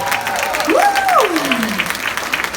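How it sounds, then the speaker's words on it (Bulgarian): Audience applause at a live concert with a dance group and band, brief and steady, with a sung or spoken voice gliding over it. "Аплодисменти още веднъж за балетите"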